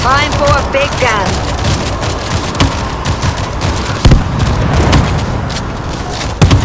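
A big gun firing in a shooter video game, loud rapid bursts of booming shots mixed with in-game voices throughout.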